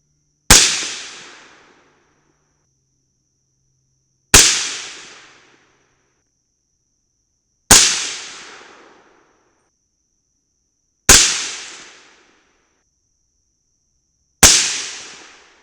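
Five loud 300 BLK rifle shots with 125gr Sierra Tipped Match King handloads over Winchester 296 powder, fired through a 10.3 inch Ballistic Advantage barrel at a 100-yard range, evenly spaced about three seconds apart, each sharp crack trailing into a decaying echo.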